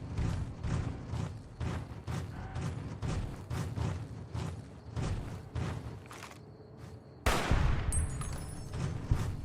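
Rapid bursts of gunfire in Fallout: New Vegas with a Wild Card modlist, a steady run of sharp repeated shots for several seconds, then a louder, denser burst near the end.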